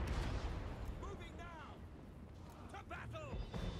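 Troops firing volleys in a Warhammer Total War battle, a steady dense crackle of distant gunfire and booms running throughout under a voice speaking.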